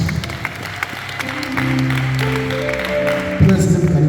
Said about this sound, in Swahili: Ongeza tena makofi kwa Bwana Yesu.